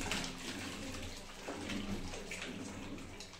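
Water is poured over a puppy during a bath, a continuous soft splashing stream that runs evenly from start to finish without speech.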